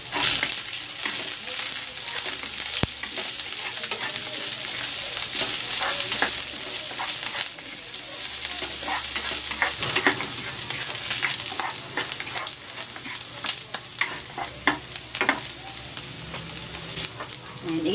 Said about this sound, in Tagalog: igigisa ko ito hanggang sa mag-brown para mabango yung ating sabaw